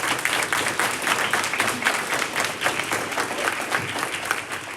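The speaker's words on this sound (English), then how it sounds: "Let's give all of our honorees another round of applause." A crowd gives steady applause at a university student awards ceremony, with dense, continuous clapping throughout that sounds fairly close.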